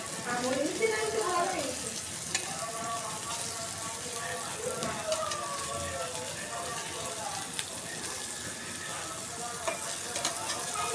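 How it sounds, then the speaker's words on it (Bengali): Crabs coated in coriander, turmeric, chili powder and salt fry in a pan with a continuous soft sizzle and occasional crackles, fairly quiet, while a voice talks intermittently over it. "এখন এই যে কাঁকড় ভেজে নেব"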